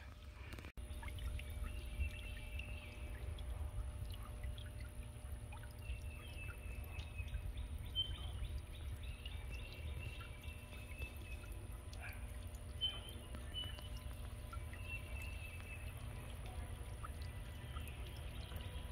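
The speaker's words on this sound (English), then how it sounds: "Get my garlic watered real good." Garlic plants being watered in a home garden, a steady pouring and splashing of water running continuously throughout with faint outdoor background, no talking.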